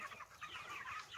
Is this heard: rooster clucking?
yes